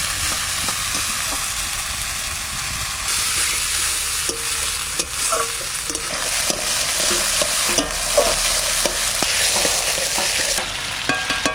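Tomatoes frying in a pan with ground ginger, garlic, dried chili and cumin for a Bengali home-cooked dish give a steady, loud sizzle with occasional stirring scrapes throughout.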